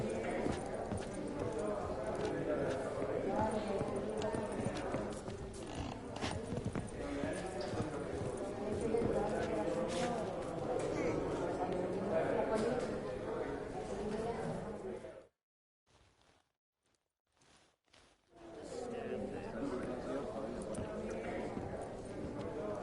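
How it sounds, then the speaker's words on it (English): Horse hooves clip-clop in The Witcher 3, a steady rhythmic trotting close by amid ambient game sound, broken by a brief near-silent gap before resuming. "I think the room was full of horses."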